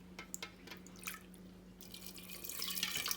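Water trickles and drips into a cooking pot holding washed, soaked lentils and a potato for a Kumbakonam kadappa stew, faint sporadic drips giving way to a steadier quiet pour near the end.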